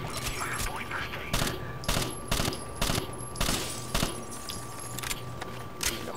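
Bursts of gunfire from the tactical shooter video game Rainbow Six Vegas 2, with sharp shots in an irregular run across several seconds over a steady game background hum.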